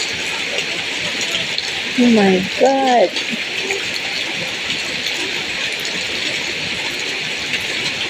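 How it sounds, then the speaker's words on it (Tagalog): Strong rushing water pours in a continuous, loud hiss that stays steady throughout, with a brief exclaiming voice partway through. "Kusog yung tubig ay."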